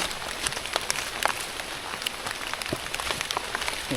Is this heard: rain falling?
yes